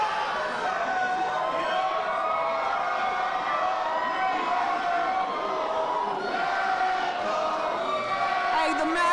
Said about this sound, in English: This crowd has been with us all freaking night.